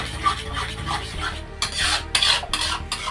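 A spoon scrapes and stirs thick banana halwa with sugar and ghee in a pan, in repeated close, rasping strokes that come in quick uneven bursts.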